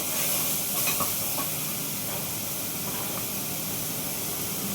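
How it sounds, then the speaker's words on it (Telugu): Green chillies tossed into gongura leaves sizzling in a hot pan, a steady close frying hiss with faint crackles and a few stirring scrapes, no talking. "కడిగి పెట్టుకున్న పచ్చిమిరపకాయ ఇలా తుంచేసుకుని వేసేసుకోండి"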